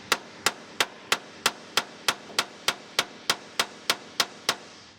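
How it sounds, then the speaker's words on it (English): Sharp metallic hammer strikes on a punch knocking bolts out of a Ford F-150 bumper, about fifteen evenly spaced blows in a steady rhythm, close and ringing briefly after each hit. "you've got to get a punch and a hammer or whatever and knock those bolts out of there"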